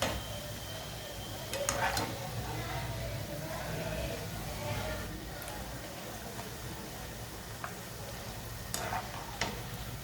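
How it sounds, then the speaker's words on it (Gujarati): Soft Champakali gathiya sizzle in hot oil as dough is rubbed through a slotted ladle and the pieces are flipped, a steady crackling fry broken by a few sharp metallic ladle clinks. "તૈયાર છે મિત્રો સરસ મજાના એવા પોચા પોચા સોફ્ટ ચંપાકલી ગાંઠિયા"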